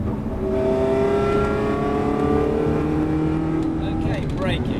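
A Ferrari accelerating hard on the Silverstone circuit, its engine note climbing steadily through the revs, loud and close, with a driving instructor talking over it.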